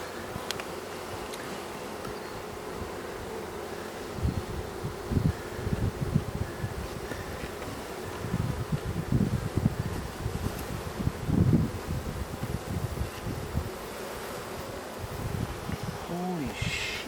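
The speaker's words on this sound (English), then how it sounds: "there's a lot of bees in there" A honeybee swarm buzzes around hive frames outdoors, a dense continuous hum with louder close passes and some rustling, while people talk faintly at times.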